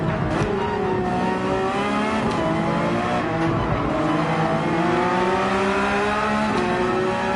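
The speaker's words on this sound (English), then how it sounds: "we gotta be full throttle through that section" A race car engine howls at full throttle in Gran Turismo 7 on the Deep Forest circuit, loud and continuous with rising and falling gear pitches throughout, and no talking over it.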